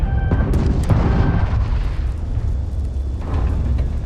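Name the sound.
ship weapons fire and explosions in the video game Starfield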